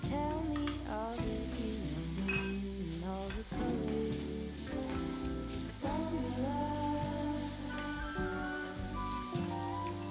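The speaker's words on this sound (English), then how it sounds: "Then I'll add the boiled amla and mix everything well." Boiled amla stirred into hot oil with panch phoran, hing and dry spices sputters in a continuous fry, partly masked by prominent background music throughout.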